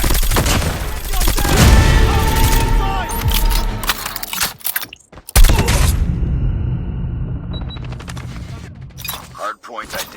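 The mythic Grau rifle fires in a video game's free-for-all and hardpoint matches, with loud rapid bursts and clattering shots in close succession, a brief gap midway, and game voice callouts mixed in.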